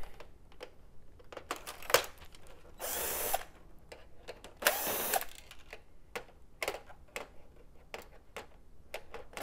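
Screws being taken out of a Technics SX KN-6000 electronic piano keyboard with a power driver produce two short whirring bursts among scattered close clicks and taps of small parts, fairly quiet.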